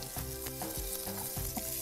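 Dry grated coconut roasting in a pan for a bread khima karanji, a steady close crackling sizzle with stirring scrapes, alone and fairly quiet.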